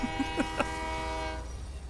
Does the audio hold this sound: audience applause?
no